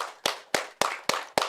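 Hands clapping in a group health exercise, five crisp, evenly spaced claps at a steady pace, near and clear with nothing else audible.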